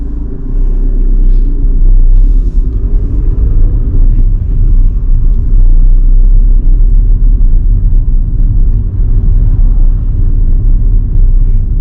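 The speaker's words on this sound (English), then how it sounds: "tire and tarmac again." Steady low road roar of car tyres rolling on tarmac during a drive along a West Didsbury test route, continuous and fairly loud close by, with engine rumble blended underneath and no one talking.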